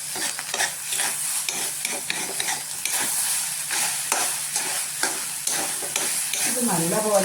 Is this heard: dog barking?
no